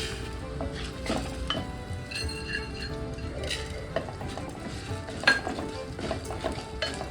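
Urad dal and fenugreek seeds fry in a little oil in a pan for amla pickle, a low sizzle under repeated scraping stirs and occasional metallic clinks of the spoon against the pan, close by.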